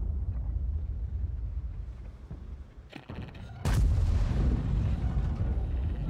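A tank cannon fires in World of Tanks during an Object 780 battle: a sharp burst near the three-second mark, then a louder heavy boom that gives way to a sustained rumbling roar over continuous engine noise.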